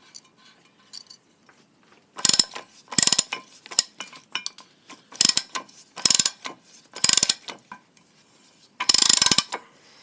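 A nylon lock nut is tightened onto a boat propeller with a ratchet wrench, producing bursts of rapid ratcheting clicks in repeated strokes separated by short pauses, close and loud against a quiet background.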